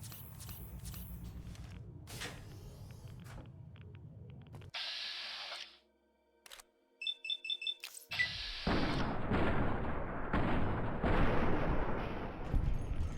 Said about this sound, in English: Those explosions are pretty cool